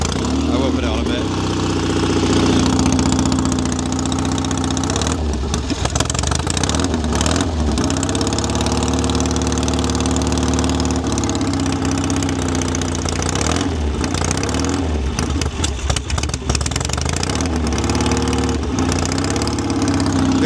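A 1970 Triumph TR6R Desert Sled motorcycle with straight pipes idles loudly and close, its steady throbbing occasionally lifted by small blips of throttle, while someone talks over the engine noise.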